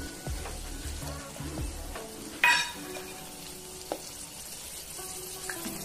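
Garlic cloves, broken dried red chillies and curry leaves frying in oil for a tempering for red chilli pickle, a steady close sizzle with stirring scrapes and one brief sharp clink midway.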